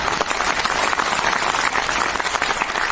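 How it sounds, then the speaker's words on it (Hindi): A seated audience at a blockchain program event claps in dense, continuous applause that stays loud and even throughout. "प्लीज एक जोरदार गड़गड़ाती तालियां आपके सम्मान के लिए।"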